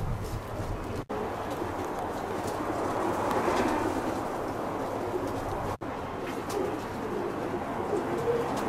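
Pigeons gather at a loft during a farewell flight in Aigaleo, giving steady low cooing and soft bird calls against a constant outdoor background, with two brief dropouts.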